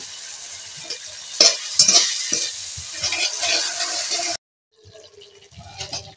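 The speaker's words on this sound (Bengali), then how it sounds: "মশলা ভাজা হয়ে গেছে।" Ground spices and ginger fry in oil in a pan for a spicy braised meat dish, a bright sizzle with several sharp stirring scrapes, close and loud, before cutting off abruptly and resuming faintly.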